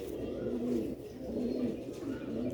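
Pigeons cooing close by in soft, low, repeated rolling calls, steady and alone without talk.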